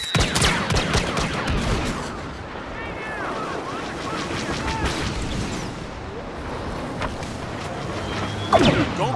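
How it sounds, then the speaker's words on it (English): Rapid blaster fire in Star Wars Battlefront during a Walker Assault battle, a steady crackle of repeated shots with mechanical battle noise underneath and talk over it, ending in a sharper close burst. "Who wants some blaster fire?"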